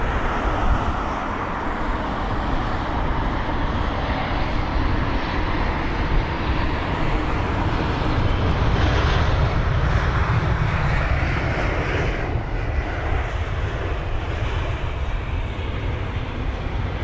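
A Scandinavian Airbus A320neo at London Heathrow produces a strong, continuous jet engine roar, fairly near and steady across the whole stretch, with no talking.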